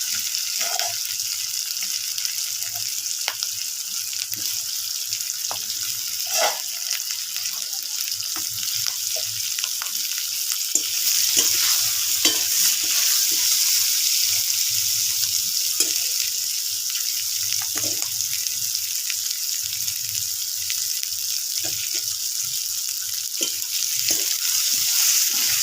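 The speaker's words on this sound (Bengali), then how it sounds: "এবার আমি আলুগুলো দিয়ে আলুগুলো এর সঙ্গে ভালোভাবে ভেজে নেব।" Potatoes frying with jackfruit in a pan, a steady broadband sizzle with scattered crackles and occasional soft utensil scrapes running throughout, fairly close and even in loudness, no voices.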